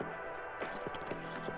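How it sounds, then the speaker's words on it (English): Someone takes a quick swig of water from a bottle, with soft, quiet gulps and wet swallowing sounds in a short, uneven rhythm and no talking. "I'm gonna get this little swig of water"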